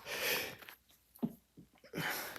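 Two sharp sneezes, one at the start and one at the end, with quieter breathy sniffs and gasps in between.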